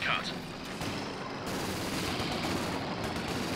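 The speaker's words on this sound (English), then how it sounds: "Machine gun coming out now." A Vickers machine gun firing in Company of Heroes 2, sustained rattling fire over dense battlefield noise with a sharp burst at the start, while a commentator talks over it.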